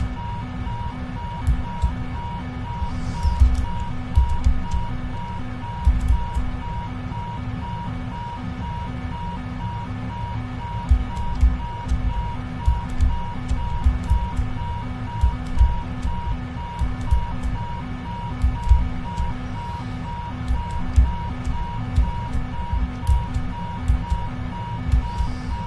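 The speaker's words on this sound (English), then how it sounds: "now I've got an alarm going off and I don't know why" A repeating cockpit alarm tone sounds steadily throughout in the PMDG 777F flight simulator game, regular pulsed beeps persisting over a low engine-like drone with faint clicks.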